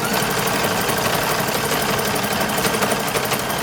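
A sewing machine stitches a brim and bias strip onto a boy toddler's 1910s–1920s style summer hat, running fast and steady in a continuous, close, loud mechanical whir with a fine rapid pulse.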